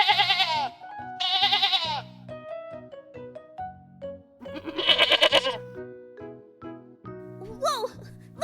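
Goats on a farm bleat in several loud, wavering calls, two close together at the start and more later, with quieter clatter and brief sounds between them.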